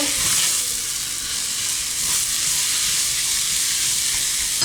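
Cubed butternut squash fries in a pan for a vegan lentil spaghetti sauce, giving a steady, even sizzle with faint stirring scrapes and no voices.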